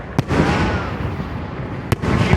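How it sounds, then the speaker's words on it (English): Memorial Day fireworks show at Margaritaville on Lake Lanier, Georgia: two sharp, loud bursts, one near the start and one near the end, over a continuous rumbling crackle of distant shells, with no talking. "You're not allowed to have fireworks."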